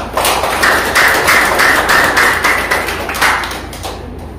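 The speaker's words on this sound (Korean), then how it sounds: "오늘 이 강경윤 초대전을 준비하신다 수고하신 작가님과 가족들에게 감사의 말씀으로 극찬 박수 좀 부탁드리겠습니다." Audience applause at a painter's solo exhibition opening in a gallery, a steady burst of many hands clapping close by that holds for several seconds and tapers off near the end.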